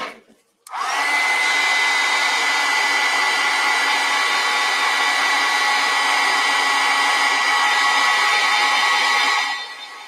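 A hair dryer switches on and blows steadily and loudly at close range while drying acrylic paint, a constant high whirring whoosh that runs about nine seconds before cutting off.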